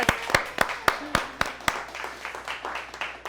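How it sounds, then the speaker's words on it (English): Scattered hand claps from a small audience, a few sharp claps at first then blurring into a looser patter of applause, no voices. "Yes, y'all can clap it up."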